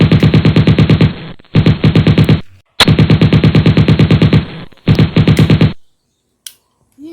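Staged gunfire in a Tamil action short film crackles as loud, rapid automatic bursts in several long volleys split by brief pauses, then ends with a lone sharp crack near the close.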